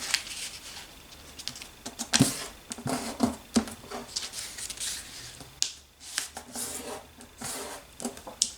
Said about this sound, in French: pliez votre feuille en deux